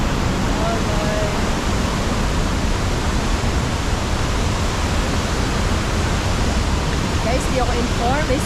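Tangadan Falls in La Union pours in a steady, dense roar of falling water that stays loud and unbroken throughout, with faint chirps and a hint of distant voices near the end.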